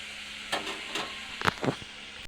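Chicken frying in oil in a pan as spices are added, a soft continuous sizzle broken by a few louder hissing bursts of stirring or steam.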